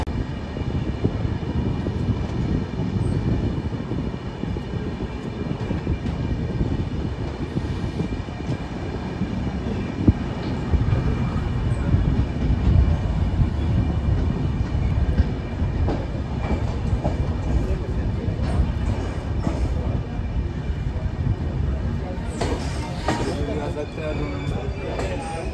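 The 13147 Uttarbanga Express rolls steadily between stations with continuous loud rumble and wheel clatter, faint squeals rising near the end, and a voice speaking over the train noise.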